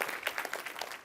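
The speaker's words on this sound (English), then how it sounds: "Let's give them a round of applause." An audience at a small business week event at Office Depot headquarters in Boca Raton gives a short round of applause, a faint, rapid patter of many hands clapping at some distance.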